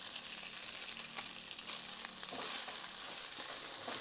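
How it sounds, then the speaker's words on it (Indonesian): Mushroom fried rice frying in a pan, a soft steady sizzle with occasional scrapes and clicks of stirring and turning, close and quiet. "Tinggal ngeringin aja, dia udah aduk terus kayak gini, dibolak-balik kayak gini biar kering."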